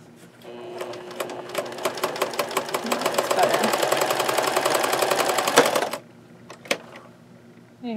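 A household sewing machine running a zigzag stitch while repairing a hole, a fast, steady mechanical chatter that holds for about five seconds before stopping, followed by a few brief clicks and a quiet voice.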